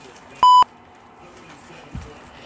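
A phone gives one short, loud, pure electronic beep near the start, followed by quiet room noise and a faint thump.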